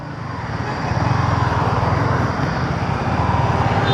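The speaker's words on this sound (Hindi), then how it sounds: "अब मैं ले चलूँगा इस बाइक को हाईवे पे" A Yamaha XSR155, a small compact motorcycle, hums steadily as it's ridden gently up onto a highway, a low pulsing engine drone under broad road and wind noise that rises slightly then holds.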